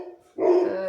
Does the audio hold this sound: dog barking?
yes